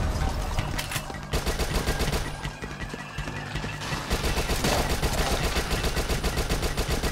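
Rifle and SMG fire in the zombie shooter Dead Nation, sharp rapid shots and sustained automatic bursts crackling continuously, loud and close with no talking.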